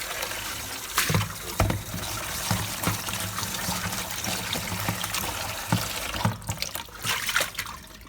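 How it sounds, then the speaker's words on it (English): Clean tap water runs and splashes as a plastic basin is rinsed, a steady close trickle broken by several louder sloshes and pours. "Now, rinse the basin with clean water."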